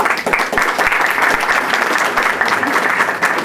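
Steady audience applause at a book presentation on social management research, dense continuous clapping from a crowd filling the room throughout.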